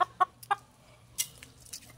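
Chickens give short, sharp clucks close by, a few quick calls in a loose rhythm at moderate volume, with no talk and little else around them.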